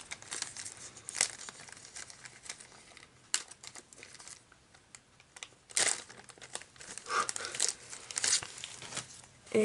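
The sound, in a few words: promo card being slid into a plastic card sleeve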